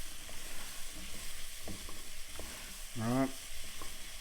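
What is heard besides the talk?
mushrooms sizzling in pan while being stirred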